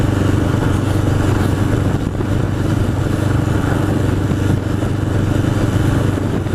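A 1981 Honda CB750 Custom motorcycle engine drones steadily while riding near East Hampton, NY, a loud, constant mid-pitched rumble mixed with wind roar, with no pauses.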